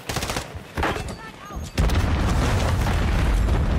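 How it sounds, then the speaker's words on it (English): Grenade blasts in Call of Duty: Warzone, a series of booming detonations and gunfire pops, then a heavy, sustained low rumble that swells loudly and stays dense to the end; a voice talks faintly early on. "I'm gonna grenade in."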